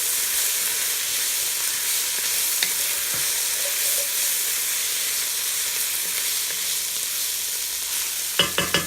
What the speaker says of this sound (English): We're going to put in about 2 teaspoons of minced garlic. Stir that in really well.